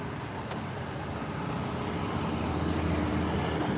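Steady road traffic on a street in Cambodia, a continuous broadband rumble of cars and other vehicles moving nearby, swelling slightly toward the end with no voices.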